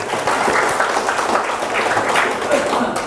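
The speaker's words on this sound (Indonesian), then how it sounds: "Terima kasih Pak Supri, tepuk tangan buat beliau." An audience at an organizational meeting applauds, a dense steady burst of many hands clapping that fills the short stretch, with a voice speaking faintly over it.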